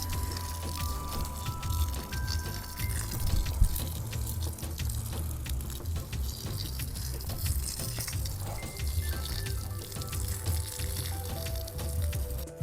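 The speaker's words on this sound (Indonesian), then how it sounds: "Ini siram lagi." Water poured from a container onto freshly planted cassava cuttings in a backyard plot, a steady splashing gush close by that runs the whole time with small clinks.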